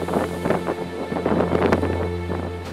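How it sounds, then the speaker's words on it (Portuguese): Steady wash of sea surf with recurring crashes as waves break hard on rocks, rumbling low and loud throughout with gusty wind noise over it. "ouvir o barulho do mar, ver as ondas que quebram forte nas pedras"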